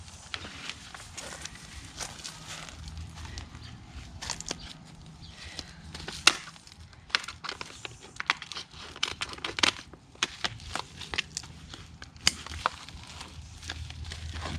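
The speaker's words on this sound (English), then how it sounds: "I might have to cut this. Cut the side of the pot." A plant pot being cut down the side while potting up succulents: repeated close crinkly snips and cracks of plastic, with irregular sharp crackles and rustling throughout, no talking.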